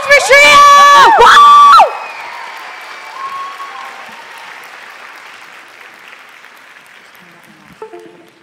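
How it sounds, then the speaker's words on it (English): Applause and cheering from the audience at Shriya's Arangetram dance recital. It opens with loud voiced whoops and shouts, then settles into a wash of clapping that slowly fades away. "Another round of applause for Shriya!"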